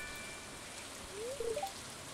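Rain falling in the farming game Stardew Valley, a soft, even hiss of drops, quiet and continuous, with a few faint short tones rising briefly over it.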